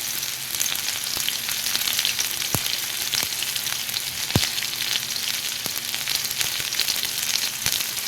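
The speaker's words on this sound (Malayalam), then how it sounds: "കടുക് പൊട്ടുമ്പോൾ നമുക്കിതിലേക്ക് ചെറിയ ഉള്ളി ഇടാം" Small onions frying in hot oil with spluttering mustard seeds, a steady broadband sizzle broken by several sharp pops and crackles, close and fairly loud with no talking, while a traditional Kerala fish curry in coconut milk is made.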